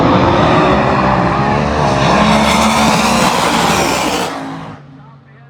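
A fuel altered drag racing car roars down the strip on its run, a loud sustained engine blast that holds steady, then drops off sharply near the end as the engine cuts.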